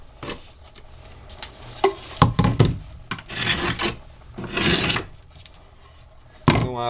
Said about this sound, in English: cleaning each joint with my scraper